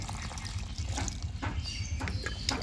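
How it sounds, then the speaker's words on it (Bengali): Water poured into a small pot holding a lotus tuber, a soft continuous trickle and splash, close and fairly quiet. "এবার আমি এটায় জল দিয়ে ভরে দেব"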